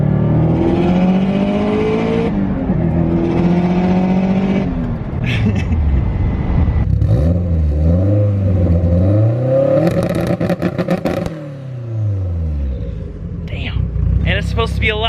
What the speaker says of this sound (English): Supposed to be a lot louder than that with the new exhaust.